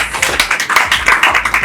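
An audience at the Corporate Ghana Hall of Fame awards ceremony applauds, with many hands clapping in a steady, close, fairly loud round that keeps going throughout.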